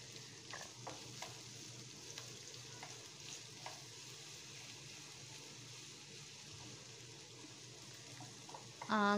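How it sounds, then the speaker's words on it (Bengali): Chopped onions fry lightly in a pan over a low-medium gas flame, giving a soft, steady sizzle with a few faint stirring taps and a brief louder clatter at the very end. "পেঁয়াজটাকে একটুখানি ফ্রাই করে নেব হালকা ভেজে নিচ্ছি পেঁয়াজটাকে"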